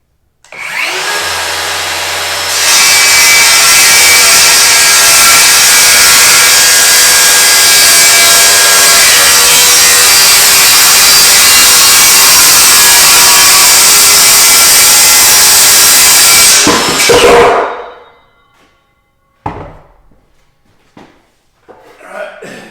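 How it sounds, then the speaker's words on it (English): A power saw cuts through a wooden floor board for a 1997 horse trailer, a loud, steady whining rasp lasting about fifteen seconds after a brief run-up, then winding down, followed by a few knocks and clatters. "We'll go ahead and make a cut. This end of the board is going to drop off."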